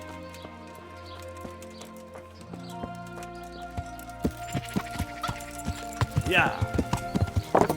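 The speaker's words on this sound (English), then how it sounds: "Horse, come here." In the medieval game Kingdom Come: Deliverance, a horse's hooves clop in quickening steps toward the listener, followed by a rising whinny near the end, while someone speaks briefly over game music.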